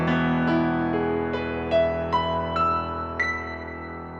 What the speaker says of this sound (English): Imperfect tuning, slightly detuned.